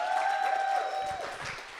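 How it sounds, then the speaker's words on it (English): A comedy show audience gives a brief round of applause for the comedians coming up, steady clapping that fades slightly toward the end, with a tonal hum underneath. "Give them a round of applause"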